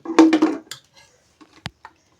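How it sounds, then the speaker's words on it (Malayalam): Shallots chopped with a knife on a board in a kitchen, a quick burst of three or four close, sharp knocks followed by a few scattered lighter taps and clicks, with no talking. "അതിന് 2-4 ചെറുള്ളി ഞാൻ അരിഞ്ഞ് വരട്ടെ"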